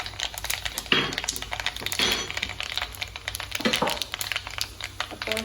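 Mustard seeds with a little fenugreek crackle and pop in hot oil in a clay pot for a Kerala-style fish curry, sharp irregular snaps scattered close by over a steady low hiss.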